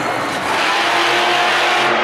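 A monster truck engine roars at a Monster Jam stadium tour run, a loud, sustained, dense revving drone with a rising pitch note near the end, no voices over it.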